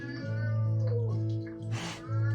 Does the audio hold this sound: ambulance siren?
no